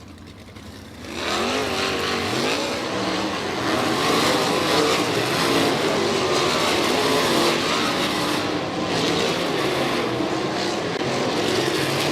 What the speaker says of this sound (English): Non-wing 410 Sprints still rolling their way onto the track as we get ready for Group 1 here in this first heat race of the night